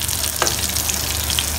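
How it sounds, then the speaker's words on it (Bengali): Pointed gourd (potol) slices frying in hot oil in a pan, giving a steady, close sizzle with faint crackles throughout the short moment and no voices. "পটল ভাজা।"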